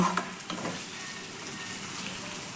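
Bitter gourd curry sizzles and fries steadily in a pan, a soft continuous crackle with a brief stir at the start.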